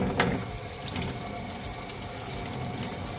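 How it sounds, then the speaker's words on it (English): Hot water runs steadily from a faucet into a sink, a continuous near hiss and splash with a few small clunks, while a degreased PCV valve from a Honda CR-V 1.5L engine is about to be rinsed of sludge. "Turn on some hot water."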